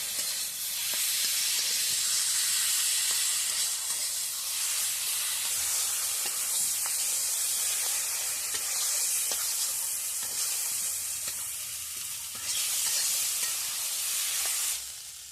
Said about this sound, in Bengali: এটাকে ভালো করে নাড়তে হবে, এই যে জলটা যেন ভালো করে শুকিয়ে যায়।